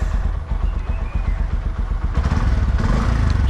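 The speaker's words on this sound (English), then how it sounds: "rev the engine" A motorcycle engine idles with a fast, thumping low pulse, then revs up to a louder, denser roar in the last second and a half, heard up close without talking.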